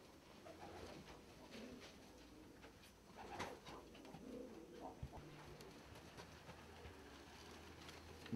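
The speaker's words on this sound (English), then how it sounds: "These are my ice pigeon" Ice pigeons kept as breeders coo softly in a loft, low rolling calls repeating over a faint background hum, some nearer than others.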